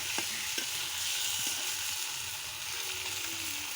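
Meat frying in a pan with a few potatoes added, giving a steady, even sizzle with a faint hiss. The sound is close but quiet and continuous for a few seconds, with no voices.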